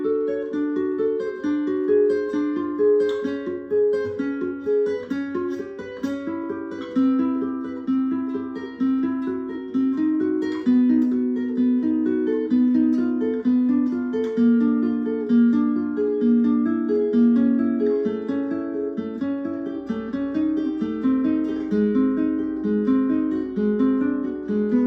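Picked guitar chord cascade played with a pick, notes rolling from low strings to high in a steady down-down-down-up pattern, continuous and close for the whole stretch with no talking.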